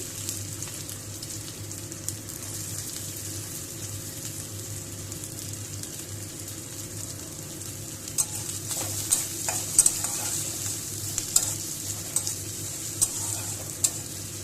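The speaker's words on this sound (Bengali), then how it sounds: "আমি কড়াই বসিয়ে দিচ্ছি, সর্ষের তেল দিলাম, আমি কুচি করা পেঁয়াজ দিয়ে দিচ্ছি" Chopped onion frying in hot mustard oil in a wok gives a steady, close sizzle that runs throughout, with a few louder stirring scrapes and clinks toward the end.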